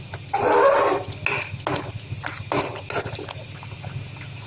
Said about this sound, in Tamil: சிம்மில் வச்சு கிளறி கிளறி விட்டுருங்க